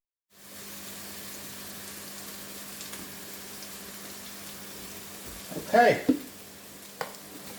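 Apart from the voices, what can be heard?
onions frying in a pan for chicken jalfrezi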